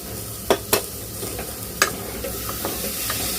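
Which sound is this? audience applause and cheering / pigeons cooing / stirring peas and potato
stirring peas and potato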